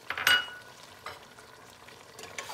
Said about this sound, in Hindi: इसको भी हम चलाएंगे, भूनेंगे।